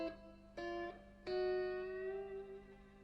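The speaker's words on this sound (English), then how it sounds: "That's a fairly typical lick or riff that you'd hear in a country song" Country-style bottleneck slide guitar lick: two short plucked notes, then a longer note that slides upward and rings out, played solo and close.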